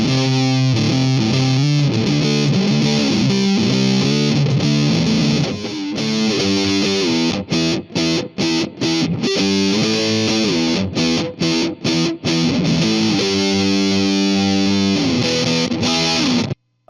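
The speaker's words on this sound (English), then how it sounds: "It's the triangle big muff." Heavy fuzz guitar from a triangle Big Muff pedal played through an Orange TH30 amp, thick and saturated, with sustained chords and choppy stabs broken by short gaps, loud and alone with no talking.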